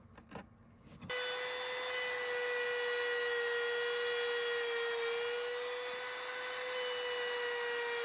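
A Dremel bit carving gills into a wooden glide bait makes a sharp high-pitched whine as it engages the wood, then holds a steady, close grinding buzz after a brief quiet moment.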